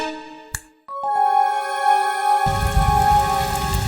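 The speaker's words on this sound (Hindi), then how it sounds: "पानी बरस रहा है।" Steady rain hiss begins partway through and continues loudly, layered over sustained tonal music with a sharp click near the start.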